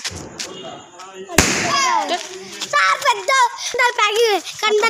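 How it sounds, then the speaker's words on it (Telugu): A sharp Diwali firecracker bang bursts once, followed by excited children's voices chattering and shouting over a background of murmur. "సౌండ్ మాత్రం గింత వచ్చింది మళ్ళీ బాంబేస్తుంది చూడండి"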